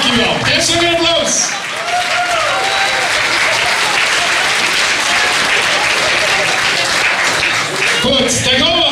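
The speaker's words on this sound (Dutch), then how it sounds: "Geef ze weer applaus." A hall audience at a carnival prince and princess proclamation breaks into loud, sustained applause, and a presenter's voice is heard at the start and again near the end.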